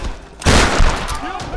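A shotgun blasts in the Tomb Raider video game, one loud broad boom with a short rumbling tail, followed by further heavy shots under a busy game soundscape.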